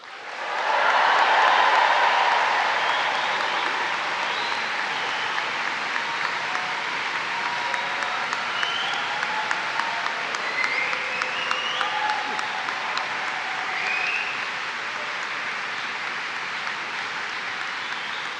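A large graduation ceremony audience bursts into loud cheering and applause, a dense roar that peaks early then settles into steady clapping with scattered whoops and whistles across the hall.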